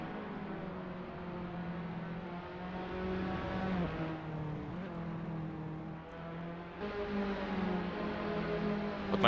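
A race car in a Tatuus racing game at Imola accelerates hard on worn tyres, its engine note droning steadily with rises and dips in pitch, loud and continuous with no talk over it.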